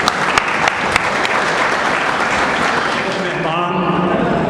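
A standing audience at an event claps together in dense, loud, continuous applause, individual claps sharp and close, thinning slightly toward the end as a voice begins to speak.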